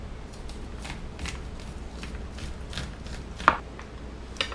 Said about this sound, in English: So here I have my corn. I'm just going to cut away the kernels.